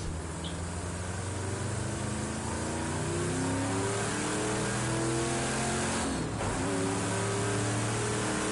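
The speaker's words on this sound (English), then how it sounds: "Dear God, that Camaro sounds godly." A Camaro engine in a racing video game revs steadily and loudly, its pitch climbing in repeated surges as gears shift, with a brief dip midway before the roar resumes.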